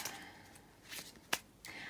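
Tarot cards are shuffled by hand close by, giving a few quick riffling bursts with a sharp snap near the end and soft rustling between.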